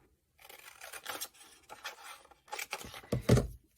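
Scissors snipping through paper to cut a small pull tab for a sardine-can gift box, a series of close, crisp cuts and rustles in uneven bursts, ending with a louder final snip, no speech.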